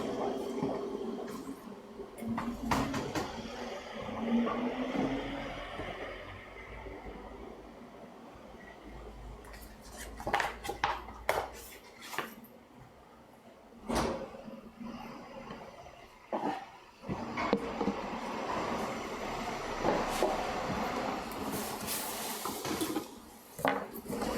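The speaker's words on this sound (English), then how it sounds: "Jesus, noisy out there. Oh, that's the garbage man." A garbage truck collects rubbish outside, heard muffled from indoors: scattered clanks, thumps and sharp pops as bags are thrown into the back, over a steady low rumble.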